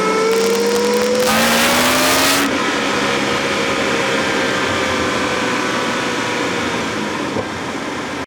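Chevrolet Corvette C6 ZR1 exhaust roaring through a canyon, a loud sustained engine note climbing in pitch over the first couple of seconds, then settling into a steady drone that holds to the end.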